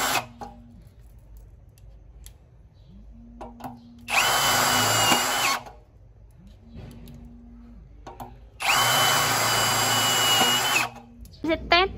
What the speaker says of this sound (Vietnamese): Sẽ test với con máy khoan 3 chức năng Rectong 120 N. Em sẽ bắn vít gỗ dài 10 phân anh em nhớ, trên gỗ nhãn anh em nhớ.